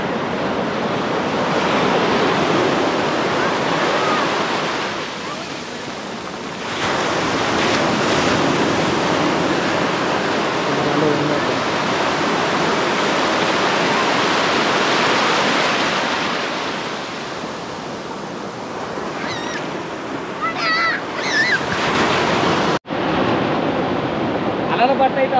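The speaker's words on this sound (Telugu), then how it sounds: "అలలు చూడవచ్చు, మన దగ్గరికి వస్తున్నాయి" Ocean waves at Rushikonda Beach in Visakhapatnam, a loud continuous roar of surf swelling and easing in long surges, with wind buffeting the microphone and faint voices near the end.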